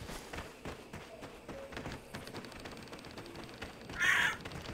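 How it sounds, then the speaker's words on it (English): A crow caws once loudly in a video game, a sudden harsh call near the end after quieter footsteps and tapping in the background. "That bird scared me."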